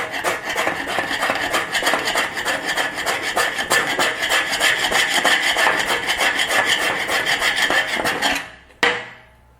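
A scraper rasping paint off a Jeep Willys chassis coated with Hammerite and red-lead primer, a fast, even run of gritty metallic strokes, close and loud for several seconds before stopping abruptly, then one last scrape.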